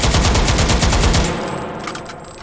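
Finnish AK rifle fired from its bipod in the H3VR virtual reality game, a loud rapid sustained burst of automatic gunfire lasting about a second and a half, then trailing echo and fading mechanical clatter.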